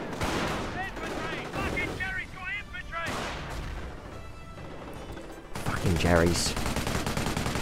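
Sniper shots and gunfire in the Company of Heroes battlefield, with repeated sharp cracks and bursts amid mechanical clatter and a heavier crash near the end, while someone talks over it.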